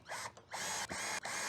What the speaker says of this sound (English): Next, we're going to install the upper latches.